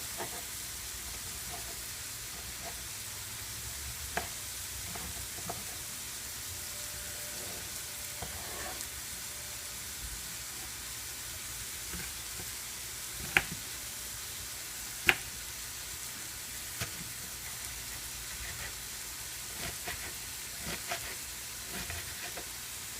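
Onions for enchiladas fry in a pan with a constant, soft sizzle and hiss, broken only by a few faint clicks and taps, without any talk.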